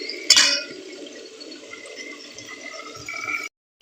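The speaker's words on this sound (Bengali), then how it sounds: "আমি এবার পরিমাণ মতন জলটা কিন্তু দিয়ে দেবো।" Water being poured into a pan of fish curry with potatoes cooked in spiced masala, a steady close pouring and splashing that runs for several seconds and then stops abruptly.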